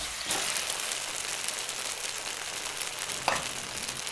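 Chicken pieces frying in tomato masala in a pan for pepper chicken chettinad, a constant close sizzle with two brief louder stirs, no talk.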